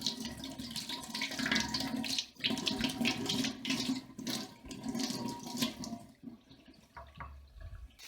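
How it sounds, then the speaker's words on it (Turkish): Running tap water splashes steadily over potatoes and onions being washed in a sink, close and fairly loud, with brief handling noises, then the flow cuts off near the end, leaving faint drips and rustling. "Aslında patates ve soğanları güzelce yıkayalım."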